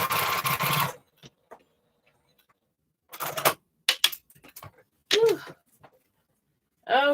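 A sewing machine stitches quarter-inch seams on a postage-stamp quilt top in short, close bursts of rapid mechanical whirring separated by pauses, with brief handling noises and a few quiet vocal sounds between runs.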